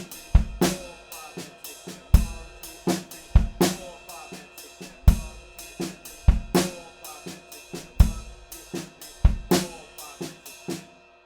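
A drum kit plays a beat, close and alone, with a steady groove of kick and snare hits, hi-hat and soft snare ghost notes repeating in a regular pattern.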